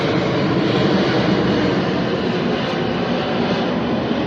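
Big passenger plane passing right overhead on approach to landing, its engine roar loud and sustained, slowly steady across the whole stretch.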